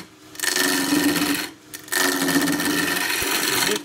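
Continental gouge cutting a square spindle blank on a wood lathe, two sustained rough cutting passes with a brief pause between, close and loud.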